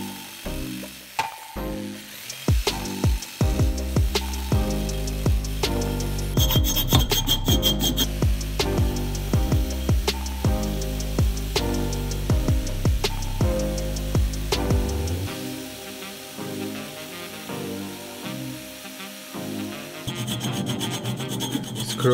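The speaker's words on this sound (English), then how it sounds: "Here I'm finishing the slot for the belt with the crappiest jigsaw ever made." A cheap, rough-running jigsaw cuts a slot for a belt in wood for a homemade CNC plasma cutter gantry, with a rapid rasping stroke that pulses in bursts and pauses, close and loud.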